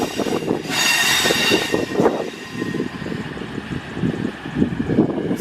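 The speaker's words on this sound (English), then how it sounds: "here is 221 Voyagers, a working service from London Euston to Chester" Class 221 Voyager train on a London Euston to Chester service rumbling through a station, with a steady loud roar, a brief high hiss or squeal early on, and rhythmic clatter of wheels throughout.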